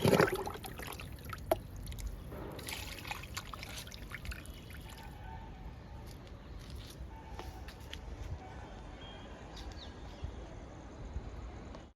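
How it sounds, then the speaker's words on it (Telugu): Homemade liquid fertilizer is poured onto a potted plant in a garden, producing a soft trickling pour that is loudest at the start and then fades into a faint dribble against light background noise. "ఈ మొక్కకు కూడా ఇస్తున్నాను లిక్విడ్."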